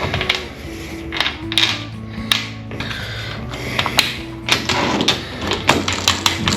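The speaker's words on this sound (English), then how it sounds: "We'll get our bolts in our track. And we'll get our plate mounted." Bolts and a metal mounting plate being fitted into the accessory track on a bass boat, giving a run of close, sharp ratcheting clicks and metallic clunks with rattling in between.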